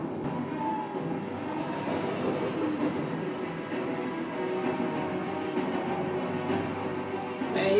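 A train running in a Westworld episode: a continuous rolling rumble with rattling wheels, steady and moderately loud, swelling slightly at the end.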